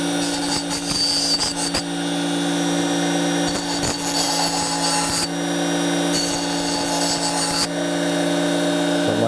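Oscillating multi-tool blade grinding against a Tigers Teeth blade sharpener, a loud continuous high-pitched buzzing whine in three bursts separated by brief pauses, close and alone.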